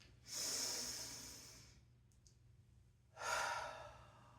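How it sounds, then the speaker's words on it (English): Two slow, deep breaths taken during a calm relaxation exercise, each a long airy inhale and exhale drawn close to the microphone, separated by a quiet pause. "taking another couple deep breaths"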